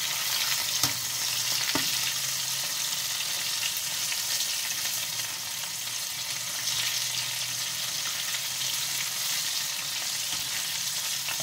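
Flour mixture frying in a small amount of cooking oil until golden brown gives a steady, close, dense sizzle with faint stirring clicks. No voices are heard.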